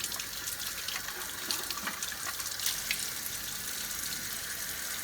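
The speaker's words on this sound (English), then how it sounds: "Let's just rinse it off." Tap water runs steadily and fairly loudly as a plastic lens part from a Hoover Junior Dirtsearcher vacuum cleaner is rinsed under it, a continuous hiss of splashing water with small shifts in flow and no voices.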